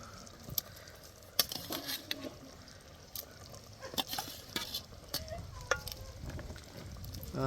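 Egg and dried prawn curry simmering in a pot, with soft bubbling and scattered stirring and tapping sounds, steady and fairly close, with no clear talk.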